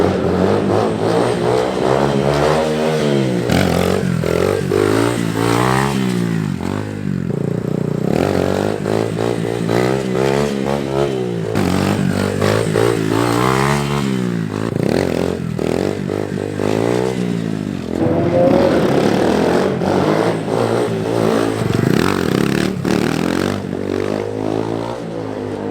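An SSR 150 Chinese dirt bike revving hard during first-gear wheelie practice, repeated rising and falling engine surges with throttle blips and clattering, loud and close throughout.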